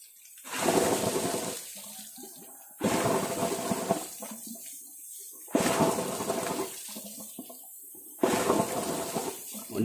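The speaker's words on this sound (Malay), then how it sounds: "Sekarang saya akan flush bagian radiator." Water gushes out of a car radiator during coolant flushing, coming in four loud bursts that each run a couple of seconds, separated by quieter gaps with drips and handling sounds.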